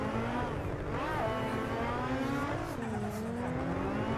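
A drift car's engine revs hard during a tandem drift, its pitch rising and falling in continuous sweeps with a rough, sustained roar and tire noise underneath, loud and unbroken throughout.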